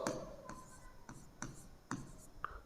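Writing on a board gives a series of short, scratchy strokes in an uneven rhythm, about half a dozen of them, soft and close with faint voice in between.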